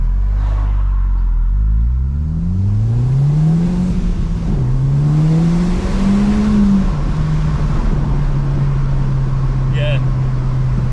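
An Audi S3 engine revs hard in first gear from low rumble, pitch climbing then holding a steady drone, loud and close in an enclosed space; a voice speaks over it.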